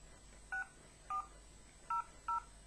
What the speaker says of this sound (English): I'm just ringing the police station again in Auckland Central